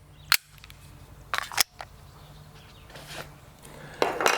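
Taurus G3 full-size polymer-frame striker-fired pistol shots: several sharp, close cracks fire at irregular intervals, each dropping quickly to quiet, with a softer burst at the end.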